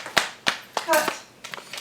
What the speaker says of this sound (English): Everybody give Remy a hand of applause.